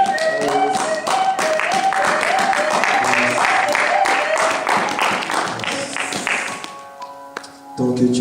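A church congregation at a Sunday service claps in a dense, rhythmic burst over music and voices, the loud applause fading out toward the end.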